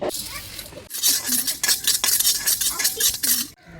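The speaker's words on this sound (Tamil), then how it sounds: "மிளகாயை தவிர இந்த மீதி இருக்கிற 13 ஐட்டத்தையும் போட்டு இப்போ வறுத்துக்கலாம்" Spices are dry-roasted for homemade chilli powder, with a spatula scraping and clinking against the pan in repeated close strokes, broken by a short pause near the start.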